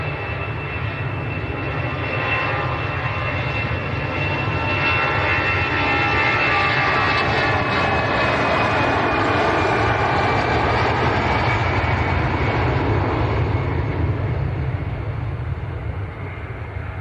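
EasyJet airliner departing Manchester Airport for Paris Charles de Gaulle, a loud, steady jet roar with deep rumble and rising engine whine that holds throughout, with no talking.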